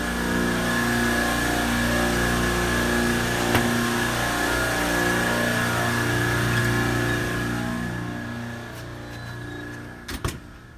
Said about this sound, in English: As we walk back into the compressor room, it's gonna get pretty loud